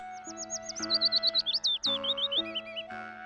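Rapid, bright bird chirps and tweets in quick repeated bursts, clear and close, over a soft steady musical background.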